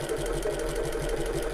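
A sewing machine stitches a hobo bag lining in a short continuous run, a close, even motor hum with quick rhythmic needle pulses.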